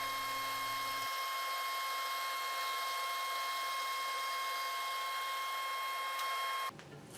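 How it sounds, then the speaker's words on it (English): A saw cuts a thin wedge off a wood board for a segmented wood bowl with tapered layers, making a steady, loud whine that holds throughout and cuts off abruptly near the end. "So I cut this wedge off that piece of wood"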